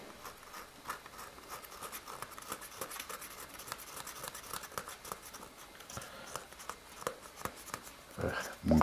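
A cabrette reed is scraped by hand with a razor blade, making dry, fine scratching strokes in a steady irregular series, close and fairly quiet, with a louder scrape at the end.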